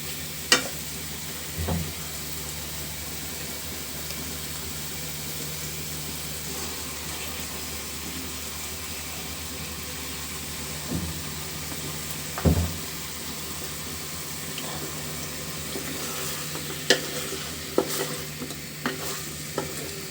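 Washed pabda fish going into a pan of cooked-down tomato and onion, a continuous sizzle and frying hiss with occasional scraping stirs and clinks, steady and close with a few sharper knocks near the end.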